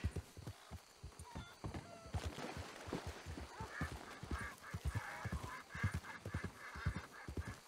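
A horse in a Red Dead Redemption 2 game moves in rhythmic clip-clop hoofbeats, soft and moderately close, in a game scene with a few faint high tonal calls and no talk.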